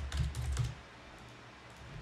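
Computer keyboard typed quickly in a short burst of close, crisp keystrokes while naming folders, then a near-silent pause with a couple of faint taps.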